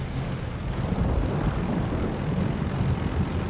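A fighter plane in Call of Duty Vanguard drones steadily with a loud, continuous propeller-engine roar. No one talks over it.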